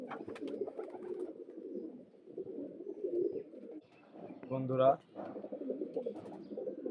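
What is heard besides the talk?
pair of Kalanka pigeons cooing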